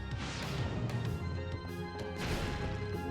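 A holy water flask shatters in Castlevania: Lament of Innocence, a sharp glassy smash followed by a rushing, crackling burst as flame spreads across the ground, with further crash hits later, loud and without talk.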